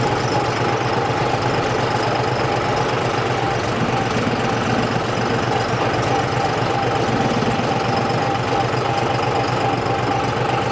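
Close and loud, a John Deere tractor's diesel engine runs steadily above 1000 rpm on a road through sugarcane fields, a continuous vibrating rumble with an even knock and no voices.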